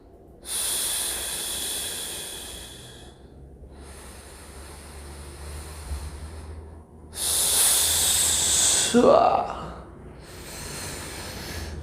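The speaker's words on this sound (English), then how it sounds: "really just practice breathing" A person taking slow, deep breathing-exercise breaths: long airy inhales and exhales in a steady rhythm, close and loud, with a forceful hissing exhale in the middle.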